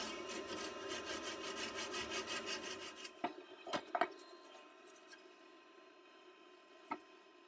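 Hand-cutting and dressing the knob off the base of a turned yew bowl makes rapid rhythmic rasping strokes for a few seconds, followed by scattered knocks and scrapes, close but fairly quiet.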